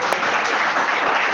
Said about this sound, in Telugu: ఇంకోసారి చప్పట్లు కొడదామా?